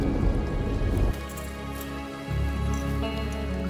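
Steady rain pours down outdoors in an Indonesian drama scene, a dense hiss that stays under tonal background music, loudest in the first second and then continuing at a lower, even level.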